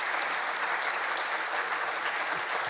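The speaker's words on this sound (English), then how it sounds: "Let's give her a round of applause." Audience applause fills a CEO fireside chat as a speaker is welcomed: a dense, steady wash of many hands clapping at even loudness throughout, with no one talking over it.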